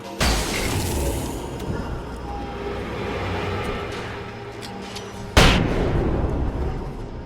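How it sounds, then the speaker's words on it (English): A flashbang grenade detonates in the Alan Wake video game, a loud broadband burst near the start, a sustained noisy wash, then a second sharp blast about five seconds later, with no talk. "I had to use that flashbang there"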